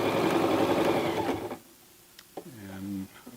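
A Toyota FSG325 sewing machine stitches the side seam of a pair of jeans, running steadily for about a second and a half before stopping, with a voice speaking afterward.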